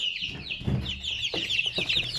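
Astrolog chicks peep and cluck steadily and close while eating crushed peanuts and feed, with soft pecking knocks mixed into their high, busy chirping.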